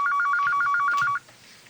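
Telephone ringer trilling in a rapid burst of about ten pulses, clear and close, cutting off abruptly into near silence.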